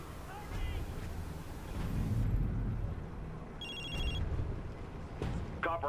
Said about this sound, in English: Now channel is not a 32. good time to be calling my phone